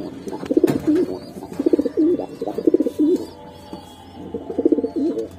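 Sobji Homa pigeons cooing close by in a loft, several bursts of throaty, rolling coos in quick succession with short pauses between, clear and without talk.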